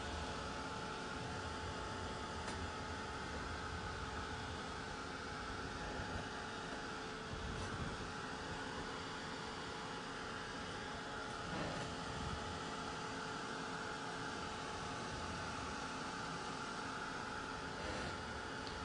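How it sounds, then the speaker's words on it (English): A heat gun blows steadily over resin poured on a painted wooden pumpkin with crushed glass, a quiet continuous airy hiss and hum with no pauses and no talking. "Because I can see the resin sort of trying to slide and move around a little bit as I'm spraying this, or as I'm blowing this."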